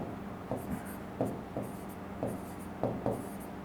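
Marker or chalk strokes on a classroom board as a teacher writes "RT", several short scratchy bursts in an uneven rhythm, close and fairly quiet over a low room hum.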